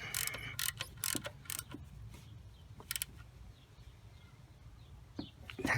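Ratchet wrench tightening an alternator bolt on a V6 Toyota Avalon: quiet, irregular metallic clicks and short ratcheting strokes close by, with faint birdsong in the background.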